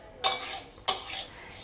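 Lentils are dry roasted and stirred in a hot wok (kadai), with two crisp scraping clinks of a spatula against the metal, each followed by a short rustling rattle of the grains.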